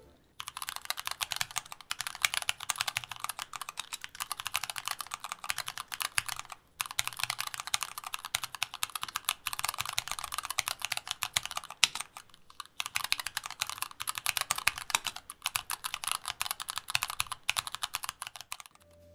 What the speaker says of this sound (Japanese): そのままの打鍵音も気になるかと思いますので、